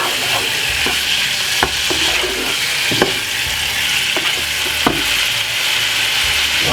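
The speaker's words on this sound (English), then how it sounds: "Alright, so at the moment I'm just browning off the liver." Liver sizzles steadily as it browns in a frying pan, with sharp clacks from occasional stirring and scraping. The sound is close and continuous, and no one speaks.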